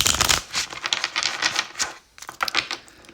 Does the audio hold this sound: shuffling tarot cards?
yes